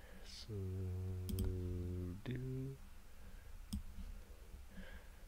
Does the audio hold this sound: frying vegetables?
no